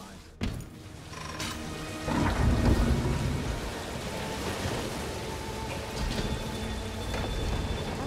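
A thunderstorm rages in the video game Dishonored 2, with a sharp thunder crack followed by rolling rumble and steady heavy rain pattering on surfaces.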